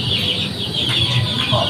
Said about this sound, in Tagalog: Ay, may sumama sisiw.